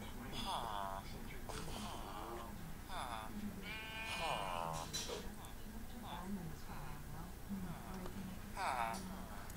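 Sheep bleat repeatedly in the video game Minecraft, a series of short wavering calls spread across the stretch over a steady busy background.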